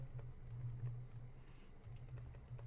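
Steady computer keyboard typing while entering code, a close run of light clicks over a constant low electrical hum, with no talk.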